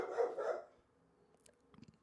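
A dog barks twice in quick succession, fairly close and loud, then falls quiet with only faint background rustle.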